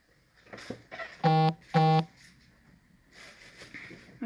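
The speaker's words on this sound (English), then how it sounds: "My phone keeps bleeping on me and I don't know why." A mobile phone bleeps twice in a row with short, sharp electronic tones, set against a quiet room with faint background talk.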